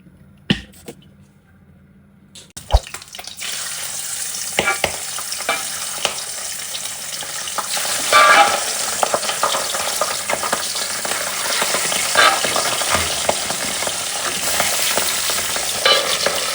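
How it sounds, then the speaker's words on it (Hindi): Oil sizzles and crackles in a hot pan for a Bengali pabda fish curry. A couple of sharp clanks come first, then a continuous loud fry hiss with scattered pops. "पैन अब गरम हो चुका है। अब मैं इसमें तेल डालूंगी।"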